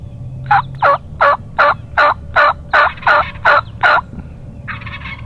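A wild turkey tom gobbles and calls loudly at close range, about ten evenly spaced notes in a steady rhythm, followed by a short raspy burst.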